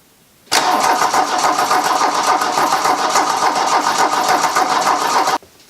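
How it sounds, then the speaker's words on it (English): A 1982 Volkswagen Rabbit diesel engine cranks over steadily for about five seconds after a fresh injection pump and timing belt, a loud, rhythmic churning that stops abruptly without catching. "So we're going to go ahead and see if this thing will crank or not."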